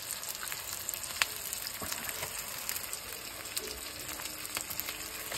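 Goat head pieces frying with onions in hot oil for a masoor dal curry, producing a continuous close sizzle with a few sharp spatters and scrapes, no voices.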